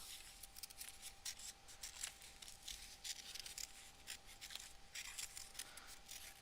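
Scissors cutting out a paper vase for an art journal page, a faint, steady papery rustle and slicing that continues close by without pause and without speech.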